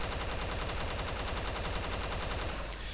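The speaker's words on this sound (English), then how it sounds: "Now if I shoot one of them completely empty," Automatic rifle fire in the DayZ mod, a rapid, steady burst emptying a full magazine without pause, loud and close throughout, with the rattle thinning out just at the end.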